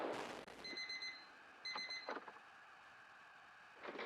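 An alarm clock rings in two short bursts of rapid metallic ringing, separated by a pause, with faint noise and scattered knocks between them and no voices.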